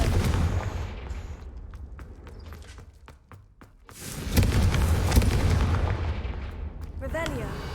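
A Confringo fire spell explodes in the video game Hogwarts Legacy, a booming blast that swells from about four seconds on and rumbles loudly with crackling debris after a run of sharp, separate cracks earlier.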